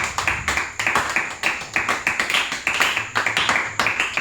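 A church congregation claps in steady, rapid rhythm to acclaim Jesus Christ, loud and close, with the sharp beats running on without a break.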